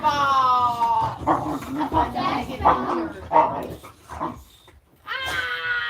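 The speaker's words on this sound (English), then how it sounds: "Control the dogs." Dogs, at least one of them a puppy, bark and whimper at close range with yelps and whines throughout, mixed with excited children's voices and adults talking over them.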